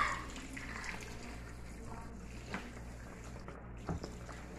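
Chicken feet being rinsed in water in a kitchen pan before cooking, with soft sloshing and splashing that swells and fades in a back-and-forth rhythm, close by and fairly quiet.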